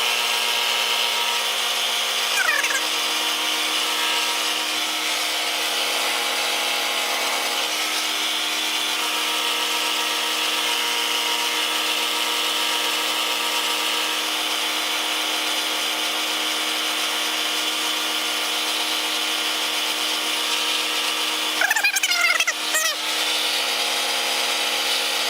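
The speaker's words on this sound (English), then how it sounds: "Okay, so let's cut a circle with the Bridgeport" A Bridgeport Series 1 CNC mill cuts a circle, a steady droning hum with a constant tonal whine running evenly throughout, with a brief voice near the start and near the end.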